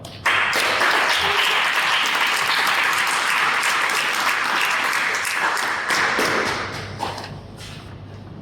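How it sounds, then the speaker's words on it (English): Audience applause for a speaker at a Toastmasters meeting, a loud sustained burst of clapping that holds steady and then fades toward the end. "In a big round of applause, Adrian Sălășan."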